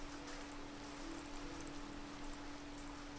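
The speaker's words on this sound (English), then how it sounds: "let's go ahead and sleep so we can get rid of this rain" Steady rain falls in Minecraft, played in the Sky Factory 3 modpack: a constant, even hiss of raindrops that holds at the same level with no breaks and no voices over it.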